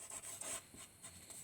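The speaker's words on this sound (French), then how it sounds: "Je vais venir gommer ici." Eraser rubbing out grey pencil marks on card during lily-of-the-valley card making, heard as a few soft, close back-and-forth scrubbing strokes with no voices.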